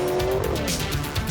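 A rear-wheel-drive V8 race car squeals its tires while powering up the Knysna hillclimb course, the engine roaring loudly and close throughout with a sustained screech of rubber.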